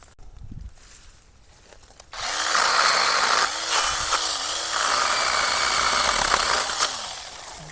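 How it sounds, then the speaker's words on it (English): ALLONE 6-inch battery mini chainsaw starting up and cutting through small overgrown branches, a loud steady high whine with the pitch dipping as the chain bites into wood, close and alone. "But let's see how well it cuts. Just cut little stuff. Slices right through it."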